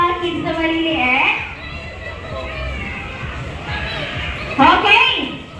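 Small children playing at an outdoor sports activity, their high voices chattering and calling out over one another in a lively, fairly close jumble, with a brief louder burst of shouting near the end.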